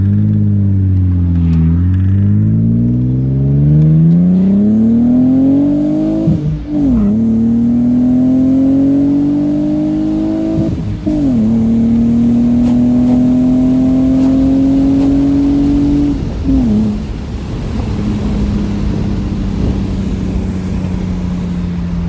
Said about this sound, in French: on est parti pour la petite accélération en ligne droite